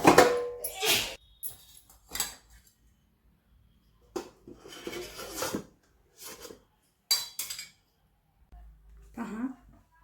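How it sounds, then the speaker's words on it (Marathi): A knife cuts through steamed kothimbir vadi on a hard surface, giving several separate clinking, scraping strokes with quiet gaps between them and a brief voice near the end. "आता आपण कट करून घेत आहोत."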